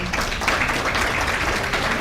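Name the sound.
audience applause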